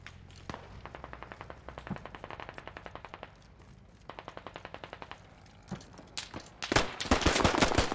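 Automatic weapon fire in the video game Squad: repeated rapid bursts of machine-gun shots, some nearer and sharper, building to dense, loud overlapping gunfire at the end, with no talk.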